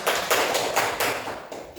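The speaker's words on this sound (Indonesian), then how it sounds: "Kita berikan aplaus untuk kita semua." Classroom applause: a group clapping in quick, steady bursts, fairly loud and close, continuing evenly for about two seconds with no talking.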